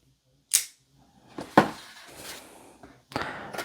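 A Kershaw pocket knife flicked open several times: sharp, close metallic clicks and snaps, the first and second crisp and distinct, with a faint rustle between and another snap at the end.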